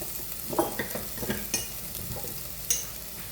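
Spice powder is stirred into frying onions for a fish curry, with a continuous sizzle and repeated scraping, clinking stirring strokes from a spoon in the pan, close and fairly quiet.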